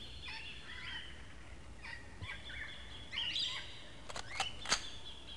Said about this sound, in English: Because the tweeting is loud.